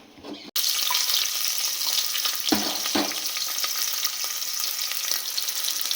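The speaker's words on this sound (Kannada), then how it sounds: "ಈರುಳ್ಳಿ ಫ್ರೈ ಆಗ್ತಾಯಿದೆ" Onions fry in hot oil in a pressure cooker. A loud, steady sizzle starts abruptly and runs throughout, broken by a couple of brief clatters from stirring, with no speech.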